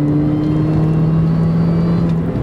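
A 2005 R53 Mini Cooper S John Cooper Works engine holds a steady, loud drone with a strong, even tone and little change in pitch, close and alone without talk.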